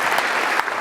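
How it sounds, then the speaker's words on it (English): Applause from a conference audience at a church wellbeing gathering, a dense, steady wash of many hands clapping throughout, fairly close and even in loudness. "Can we just give them another round of applause?"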